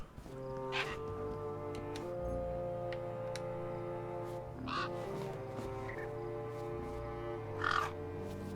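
Birds in the video game Beyond A Steel Sky give repeated crow-like caws, with three louder calls standing out over a steady tonal game music bed.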